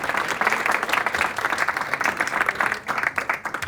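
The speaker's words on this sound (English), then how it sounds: "Let's give a round of applause for the parents who got their kids out of the house in the morning on New Year's Day" An audience at a New Hampshire town hall applauds, a steady, full round of clapping from many hands that dips slightly before continuing.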